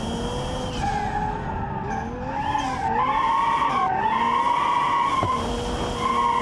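A car drifting in BeamNG.drive squeals its tires in long wavering skids over a droning engine, the pitch sliding up and down as it slides through the turns.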